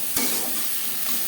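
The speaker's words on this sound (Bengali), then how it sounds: "টমেটো লঙ্কার সাথে বেশ ভালো করে মিক্স করে দেবো।" Spices, tomato and chilli fry in a pan as a spoon stirs them, one quick scrape followed by a steady close sizzle with no voices.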